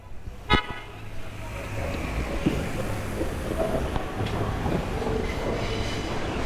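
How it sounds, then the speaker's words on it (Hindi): A train approaching and passing near a road during a ride, opening with a short horn toot, then a steady loud rumble and rattling of rail cars that continues to the end. "ट्रेन आ रही है, आई थिंक शोर पड़ रहा है काफ़ी ज़्यादा"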